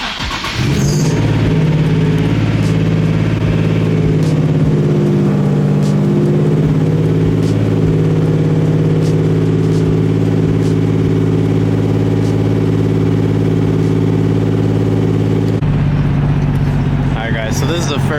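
A Nissan S15 on a new setup and lowered ride height idles loudly up close, its engine a steady harmonic drone with occasional revs, before pulling away; a voice talks over it at the start and end.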